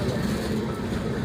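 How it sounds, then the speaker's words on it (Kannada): A train arriving at a station gives a brief, dense, low rumble that fills the moment at steady loudness, with no voices. "ಇವಾಗ ಟ್ರೈನ್ ಬಂತು"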